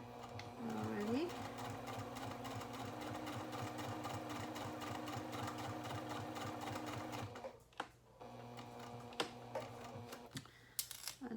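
A sewing machine runs steadily while back stitching a fabric coin purse card holder at a stitch length of about 3.5, a continuous close whir that stops near seven seconds, followed by a few clicks and handling noises.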